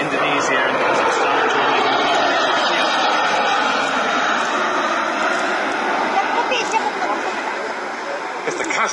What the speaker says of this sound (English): An A400M is operated, of course, here in the UK by the Royal Air Force